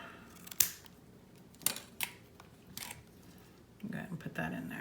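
Scissors snip through vape coil wick cotton in a few sharp, close clicks, spaced out, with quiet handling noise between cuts.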